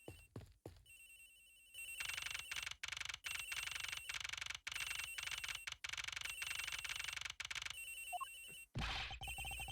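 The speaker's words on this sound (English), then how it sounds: "It sounds like the phone is up in the flight attendant's room." A telephone rings in the Ace Attorney Investigations video game, a loud electronic trill repeating in bursts with short gaps, ending in a brief rustling noise.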